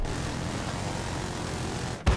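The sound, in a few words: helicopter flying overhead in Battlefield 4 video game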